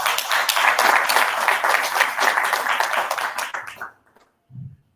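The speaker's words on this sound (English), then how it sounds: "please give us a round of applause to all the panelists." An audience claps for a panel of speakers at a conference session, a dense burst of applause that runs for about four seconds, then cuts off into near silence with a faint low sound afterward.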